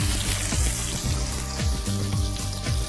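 Food sizzles and crackles loudly in a hot pan, a dense, continuous frying hiss with no talking.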